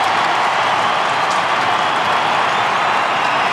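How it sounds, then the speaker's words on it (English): A football stadium crowd roars for St Kilda's Lenny Hayes after a sidestep. The loud, dense roar and applause fill the air evenly throughout, with no speech on top. "What about the roar for Lenny Hayes' sidestep?"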